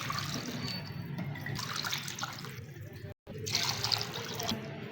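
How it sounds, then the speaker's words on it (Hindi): Water pours steadily into a cooking pot for Kabuli pulao, with a splashing, gurgling rush that stops sharply for a moment, then resumes. "पानी ऐड कर लेंगे"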